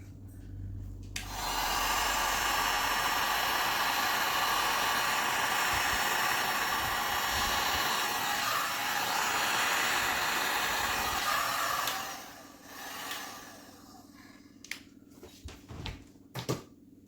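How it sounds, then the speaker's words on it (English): Heat gun blowing hot air across resin in a trinket tray, a loud steady whoosh starting after a second and running about ten seconds before cutting off, followed by faint clicks and handling noises. "All right, I have the heat gun."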